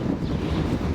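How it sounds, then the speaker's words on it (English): Wind buffets the microphone outdoors on a lawn being re-sodded, a steady low rumble filling the whole moment. "I apologize for the wind."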